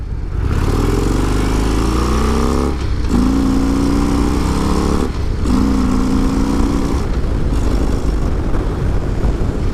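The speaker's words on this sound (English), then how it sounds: "We're gonna go through all the gears here." A powerful car accelerating hard through its gears, the engine note climbing in loud rising pulls broken by short dips at each upshift, roaring close and continuous throughout.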